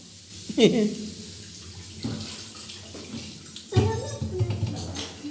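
Water splashes and hisses against a hot metal griddle in a few bursts, with clanking of cookware and someone speaking.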